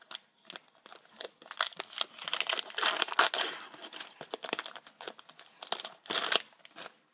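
Crinkling and tearing of a Pokémon Flash Fire booster pack foil wrapper, with irregular crackling bursts that swell and fade, close and fairly loud, with no talking.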